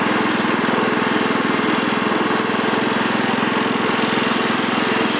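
A 1996 Craftsman riding lawnmower's engine drones steadily and close in first gear, a loud continuous buzzing hum with no talk over it.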